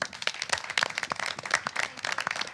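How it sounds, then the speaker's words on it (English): Applause from the audience at a school board meeting honoring educators, a dense, steady patter of many hands clapping close by throughout. "just a round of applause for our educators."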